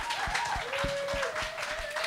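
Conference audience applauding a women's discussion panel at the NORML Canada National Conference, a steady, moderately close round of clapping running throughout with a faint voice underneath.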